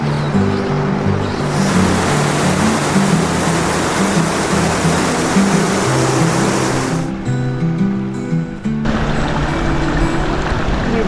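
Calandula waterfall in Angola roars as a loud, continuous broadband rush of falling water, close and steady throughout with no talk.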